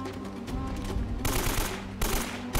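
AK assault rifle fire in the video game Uncharted: Drake's Fortune, short rattling bursts over a dense game backdrop, with a sharp cut partway through and another burst near the end.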